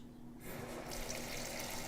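A washing machine fills with fresh rinse water, a steady pouring rush that swells louder partway through, close and continuous without talk.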